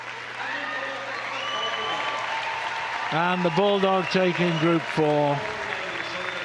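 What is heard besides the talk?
crowd cheering and applauding at Crufts dog show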